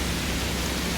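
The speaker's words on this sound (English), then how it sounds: "It's raining outside." Video game rain falls outside at night, a brief, uniform rushing hiss that fills the background without pause.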